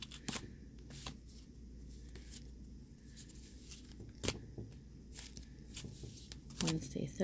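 Tarot cards shuffled during a psychic reading, giving a steady papery riffling with a few sharper snaps and a louder burst near the end, with faint speech underneath.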